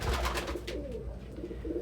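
A pigeon coos softly with a low, throaty warble, close by, against a faint background hum.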